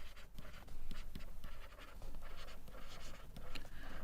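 Chalk or marker scratching across a board while writing out a cytoskeleton defect note, steady strokes and short taps in an irregular rhythm, close and clear with no talking.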